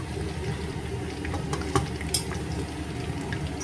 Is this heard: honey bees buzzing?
no